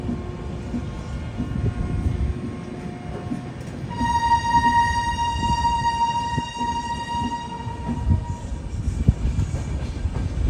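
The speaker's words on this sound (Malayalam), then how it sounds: "ട്രെയിൻ ഇതാ മധ്യപ്രദേശിലെ ജബൽപൂർ റെയിൽവേ സ്റ്റേഷനിലേക്ക് എത്തിക്കൊണ്ടിരിക്കുകയാണ്" The Madhya Pradesh Sampark Kranti Express rolls into Jabalpur station with a steady rumble of wheels and cars, while a sustained horn blast sounds midway through and fades.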